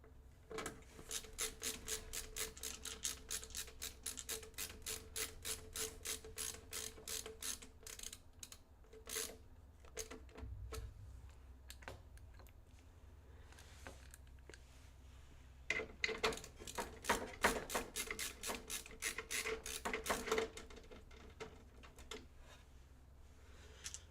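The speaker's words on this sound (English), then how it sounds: "The riveting stuff of doing a PC build where you have to screw in a whole bunch" Screws being driven into a gaming PC build with an AMD 7800X3D and RTX 4090, a long run of rapid ratcheting clicks from a screwdriver in repeated bursts, close and soft, without speech.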